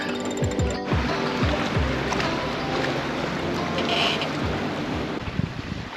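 A sailboat with a DIY lead keel moves through water at about six knots, producing a steady loud rush of water and wind across the hull, with a few low knocks early on.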